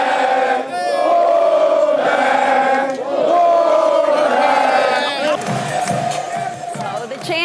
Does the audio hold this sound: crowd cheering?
yes